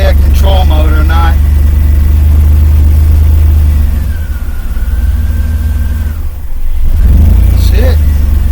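Car engine at a rough, low idle that keeps dropping and stalling, an idle air control fault suspected; steady low rumble near the microphone that sags midway, with someone talking over it.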